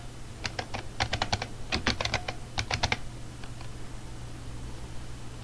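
Quick bursts of clicking keystrokes on a computer keyboard, close and crisp, tapering off after about three seconds over a quiet hum, with no talking.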